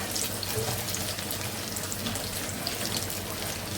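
Green chilies and onion sizzle steadily in a hot pan, a close, even crackling hiss that continues without break and with no talking.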